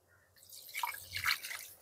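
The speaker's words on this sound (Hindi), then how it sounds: "इस पानी को अब मैं अपने सभी प्लांट्स में थोड़े थोड़े करके डालूंगी।" Water poured from a mug onto potted plants, a short run of soft splashing and dripping with no talk.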